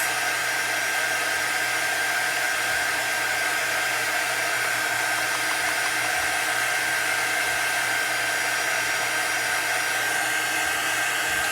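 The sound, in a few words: drying watercolor butterflies with a heat tool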